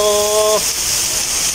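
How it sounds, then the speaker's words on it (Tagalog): A brief high tone sounds at the start, then fades out and leaves the steady roar of heavy typhoon rain pounding down close by at a market in Tagaytay. "Lakas ng ulan."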